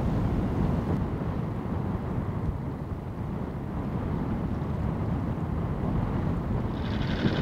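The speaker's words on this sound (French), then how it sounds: "Le moteur de l'annexe a démarré au quart de tour. Depuis il ronronne tranquillement." The outboard motor of a sailboat's dinghy runs at a steady low drone throughout, a continuous close rumble mixed with wind noise and no talking.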